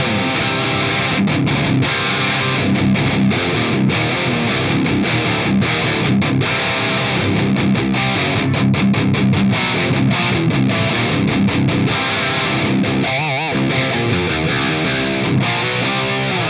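A loud, heavily distorted electric guitar through a Fryette Deliverance amp plays chunky high-gain riffs, thick and saturated throughout with no voices.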